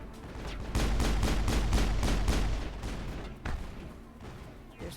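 Rapid gunfire in the sci-fi shooter Mass Effect, a loud sustained run of close shots in quick rhythm that tapers off, then a single later report over lingering noise.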